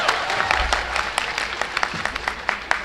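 An audience at a speech during a fair in Mauranipur breaks into applause, a dense burst of claps, fairly close and loud, lasting a few seconds.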